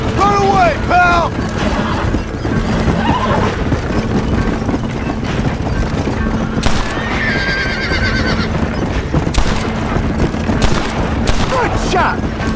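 Gunfire in Red Dead Redemption, a steady crackle of shots mixed with horses whinnying and galloping hooves, with voices heard now and then over the din.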